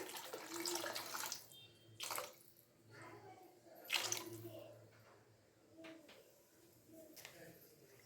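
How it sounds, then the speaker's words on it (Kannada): Water poured into a pan of vegetables for rava upma, a splashing, running pour in a few bursts, close and moderately quiet, with a voice talking over part of it. "ಈಗ ರವೆ ಎಲ್ಲ ಹಾಕೋದಕ್ಕಿಂತ ಮೊದಲೇ ನೀರು ಹಾಕ್ಕೊಂಬಿಡೋಣ"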